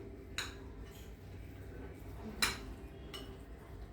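A spoon stirs red chilli powder and dal in a bowl, giving three faint, sharp clinks against the dish over a quiet, low background hum.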